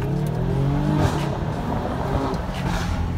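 A sports car accelerating hard in sport plus mode on a Budapest road, steady loud engine roar and tire noise throughout with a rising then shifting engine tone, heard from inside.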